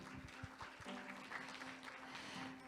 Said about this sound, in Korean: 여러분 다시 한번 힘찬 박수와 함께 무대로 모시겠습니다